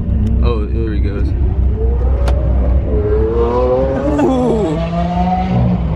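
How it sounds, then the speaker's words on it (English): A Lamborghini Huracan engine revs loudly and continuously up close, its pitch climbing and falling over a constant car rumble, while people talk and exclaim over it. "Rev it up. See if it'll like rev back."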